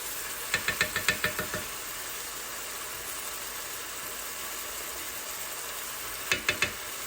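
Pork menudo in a pan, freshly mixed with tomato paste, is stirred with a utensil: a quick run of six or seven knocks against the pan, then quiet sizzling, then three more knocks.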